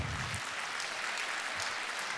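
An audience at a stand-up comedy show breaks into steady, dense applause that fills the whole moment, with no pauses or voices.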